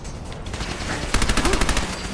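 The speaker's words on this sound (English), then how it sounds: "Come, my robots! Destroy him! Opening fire!" Robots open fire with guns in Fallout 4, a rapid burst of sharp, loud shots erupting after a steady background of noisy game ambience.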